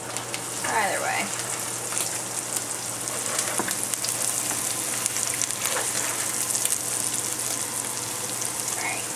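Eggs frying in a pan give a steady, even sizzle with a low hum underneath, constant from start to finish, with a few faint clinks and stirring scrapes on top.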